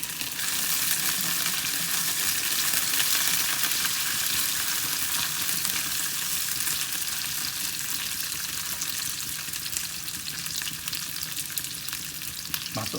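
Curry leaves dropped into hot oil with onions for a Malaysian-style chicken curry, giving a loud, continuous sizzle and crackle that holds steady close by for the whole stretch, without talk.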